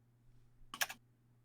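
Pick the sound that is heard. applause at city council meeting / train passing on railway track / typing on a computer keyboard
typing on a computer keyboard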